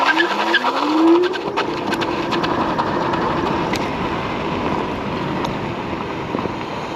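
A Segway Ninebot GT2P electric scooter accelerates hard on boost: a brief rising motor whine at the start, then a loud, steady rush of wind and road noise for several seconds.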